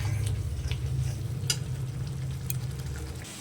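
Meat masala fries and is stirred in a pot at an outdoor picnic, a moderate sizzle with occasional spatula scrapes over a steady low rumbling hum.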